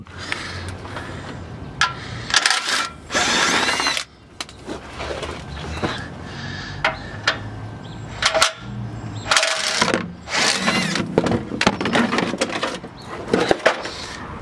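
A 5/8 impact wrench zips bolts off a 2007 Chevy Tahoe in short, loud, bursty rattles separated by pauses and clanks, close and with no one speaking.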